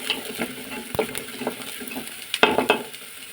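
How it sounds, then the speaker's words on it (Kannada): Finely chopped vegetables fry in a pan for ragi soup, a soft sizzle broken by intermittent scraping stirs and light clinks of a utensil against the pan. "ನೋಡಿ ಈಗ ತರಕಾರಿ ಇದು ಫ್ರೈ ಆಗಿದೆ ಚೆನ್ನಾಗಿ"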